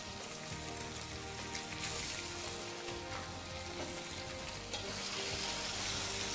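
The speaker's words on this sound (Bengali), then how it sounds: "আপনি জাস্ট এই ভাজা রসুনের মধ্যে নাচতে নাচতেই আপনার এই হাঁসের ডিমটা স্ক্র্যাম্বল হয়ে যাবে" Duck egg scrambling in fried garlic for fried rice, a steady loud sizzle and crackle with occasional stirring scrapes throughout, no talking.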